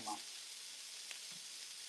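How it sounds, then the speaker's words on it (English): Steady broadband hiss of smash burger patties sizzling on a hot griddle, continuous and fairly close, with a brief clink near the start. "listen to that sizzle."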